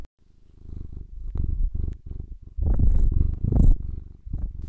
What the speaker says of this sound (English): This is my cat, Otis.